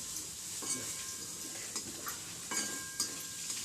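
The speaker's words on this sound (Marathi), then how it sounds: "इथं कांदा भाजायला टाकले" Onion roasting in a pan for a home breakfast, a soft, steady sizzle punctuated by occasional stirring scrapes and light utensil clinks, quiet and close.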